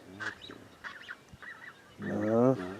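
Loud goose honking close by, several harsh nasal calls spread across a few seconds, the last one longest and strongest, heard while a bird builds a nest.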